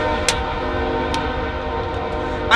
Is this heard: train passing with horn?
yes